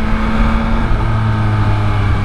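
Yamaha MT-09 2021 motorcycle engine running close and loud, a dense low growl that shifts pitch as revs drop partway through, no talking.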